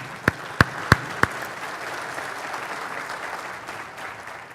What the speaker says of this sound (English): a big applause to Jan Harzan